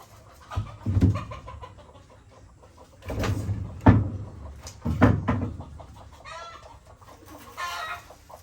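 Chickens clucking and squawking in bursts as they are shooed around a yard, several loud flurries of agitated calls separated by quieter gaps, close by.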